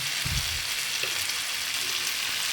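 Softened tomatoes sizzle and fry steadily in a pan, a dense continuous crackle with a brief stirring scrape near the start.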